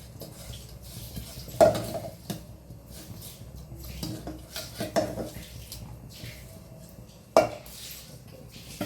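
Broken matta rice upma is stirred in a pot, giving soft scraping and a few sharp clanks of a utensil against the metal at irregular intervals, fairly quiet overall.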